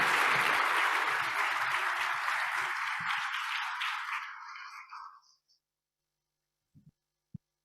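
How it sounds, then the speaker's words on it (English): Sustained audience applause after a conference discussion with Cory Doctorow, loud and dense at first, gradually thinning out over several seconds before fading to near silence, followed by a couple of faint stray clicks. "A big round of applause."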